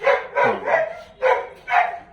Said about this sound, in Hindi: पीछे से कुत्ता भी भौंक रहा है